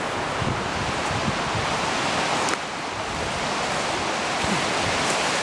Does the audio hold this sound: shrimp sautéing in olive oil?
no